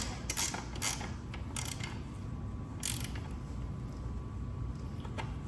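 Ratchet wrench turning a bolt on the rear wheel of a Rattan LF/LM750 Pro electric bike, a few quick bursts of close metallic clicking separated by short pauses over a low background hum.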